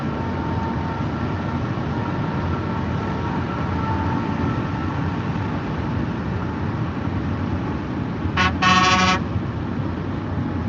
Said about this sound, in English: He gave me a good old honk.